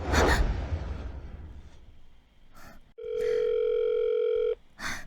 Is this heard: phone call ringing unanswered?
yes